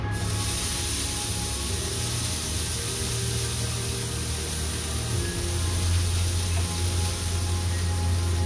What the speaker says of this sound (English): Garlic directly on the pan.